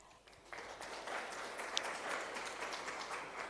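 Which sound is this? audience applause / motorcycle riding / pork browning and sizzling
audience applause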